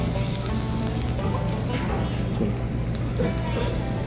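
Freshly stir-fried spicy pork, jeyuk bokkeum, sizzling steadily on a hot plate at a Korean restaurant, a constant close hiss and crackle with faint background voices.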